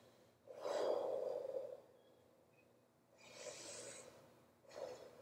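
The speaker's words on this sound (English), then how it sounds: "take a big deep breath in." Patient breathing deeply through the mouth during a medical lung assessment: a long audible inhale, a pause, then a softer exhale and another short breath, close and quiet.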